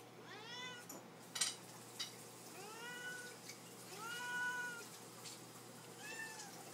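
Several cats meow repeatedly, with drawn-out, rising-and-falling cries spaced a second or so apart at moderate loudness, plus a couple of sharp knocks early on.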